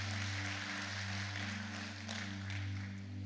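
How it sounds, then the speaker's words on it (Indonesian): A church congregation applauds, a steady wash of clapping that stays fairly faint and even over an electrical hum for the whole short stretch. "Yang setuju beri tepuk tangan buat Tuhan Yesus."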